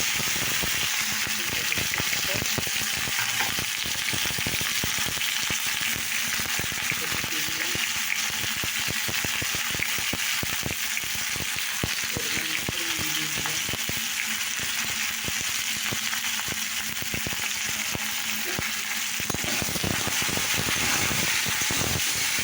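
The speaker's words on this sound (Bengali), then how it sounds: "আর এদিকে দেখো ডাঁটা, কাঁচা কলা, ডাঁটা আর আলু আমি দিয়ে দিলাম।" Drumstick stalks, raw green banana and potatoes sizzle steadily in hot oil seasoned with bay leaf and five-spice, a dense, continuous frying hiss that holds loud and close throughout, with faint voices now and then.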